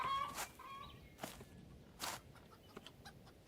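Rooster clucks and calls in the farming video game Farmer's Life, a few short bursts spaced apart over quiet, faint footsteps in between, no talking.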